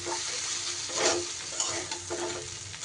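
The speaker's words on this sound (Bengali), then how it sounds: "সব কিছু এইভাবে একটু মিশিয়ে হালকা হাতে নাড়াচাড়া করে নিতে হবে।" Potato and yardlong bean fry is gently stirred in a hot pan: a soft continuous sizzle with a couple of swelling spatula scrapes, heard alone.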